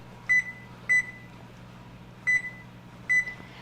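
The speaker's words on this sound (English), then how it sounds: "I'm actually going to set myself a timer" A kitchen timer is set for bread dough rising, giving four short, sharp electronic beeps in two pairs, close and clear over faint background hum.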